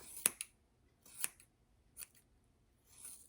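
Scissors snip the muzzle hair of a Havanese dog during grooming, giving several short, close, crisp cuts separated by quiet pauses; no talking.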